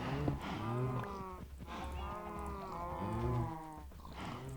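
Blocky cattle in the Minecraft video game moo repeatedly, several long drawn-out lowing calls overlapping one another at moderate volume across the clip with no talk.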